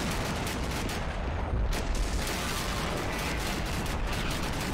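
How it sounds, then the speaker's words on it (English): Dense artillery and gunfire rage in a battle between green and tan plastic army men, a continuous loud barrage of overlapping explosions and shots with no pauses. "The artillery is just killing them all."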